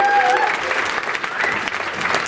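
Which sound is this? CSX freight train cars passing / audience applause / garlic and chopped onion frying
audience applause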